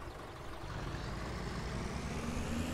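Vehicles in the Farming Simulator 17 video game drive past, making a steady, loud engine rumble that builds slightly over a few seconds, with no talking.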